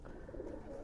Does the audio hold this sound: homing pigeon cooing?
yes